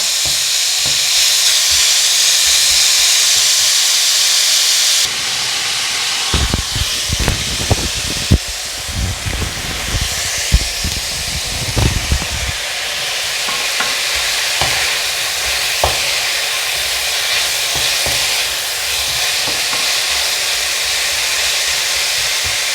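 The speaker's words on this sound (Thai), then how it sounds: "ผัดหมูไปให้สุกจ้ะ" Pork belly stir-frying in a pan, a steady loud sizzle with bursts of scraping and clattering as the meat is tossed and stirred, continuing throughout with no talk.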